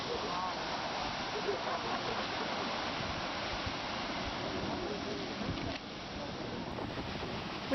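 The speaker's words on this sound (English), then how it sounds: "We walked among and behind many a waterfall" Constant broadband rush of Skógafoss waterfall in Iceland, a steady roar of falling water, heard close and loud with wind buffeting the microphone.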